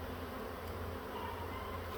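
A swarm of wild honeybees hums in a steady, dense buzz that stays close and constant throughout, with no voices.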